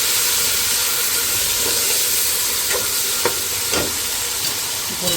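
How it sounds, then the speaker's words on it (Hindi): Browned onions with ginger garlic paste fry in a pan, giving a loud continuous hiss and sizzle with a few sharp spoon taps as the mixture is stirred. "अब मैं इसके अंदर भर के 1 खाने का चम्मच जो है वो लहसुन अदरक का पेस्ट डाल दूँगी। उसके बाद थोड़ा सा इसको भून लूँगी हल्का।"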